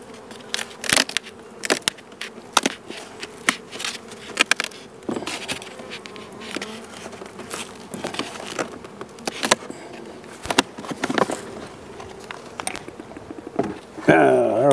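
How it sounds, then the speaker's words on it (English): A box of honeybees, just shaken after sitting undisturbed all winter, buzz steadily up close, with frequent sharp knocks and crackling thumps from handling the box throughout. "There's a box full of bees."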